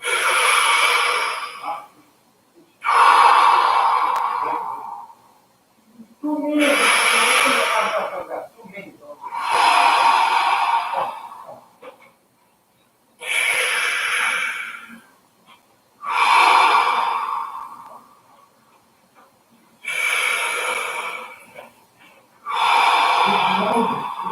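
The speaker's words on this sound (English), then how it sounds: "now big breathing here" Deep, slow breaths during a breathwork exercise that pairs rib stretching with big rib-cage movements, drawn in and released in long airy waves about every three to four seconds, each followed by a short pause of quiet.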